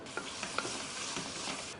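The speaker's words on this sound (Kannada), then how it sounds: "ಈಗ ನೋಡಿ ಎಣ್ಣೆ ಕಾಯ್ತಾ ಇದೆ" Cooking oil heats in a pan before the spices go in for a boti gojju curry. It gives a faint, continuous sizzle, with a few soft clicks near the start and no voices.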